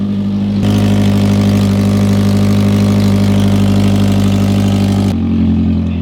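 A Hyundai Genesis Coupe running on ethanol cranks and catches, then settles into a loud, steady, close idle that cuts off near the end.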